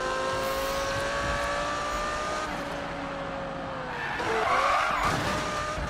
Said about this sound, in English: Feel the drift.